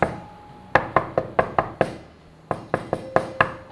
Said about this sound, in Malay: pintu ni diketuk.